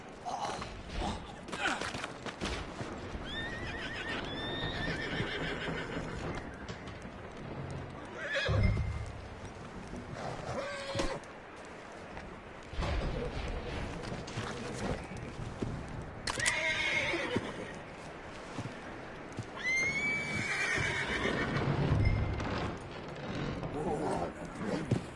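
A horse in the video game Red Dead Redemption 2 whinnies several times between clip-clopping hooves and thuds, with character dialogue running over the game sounds.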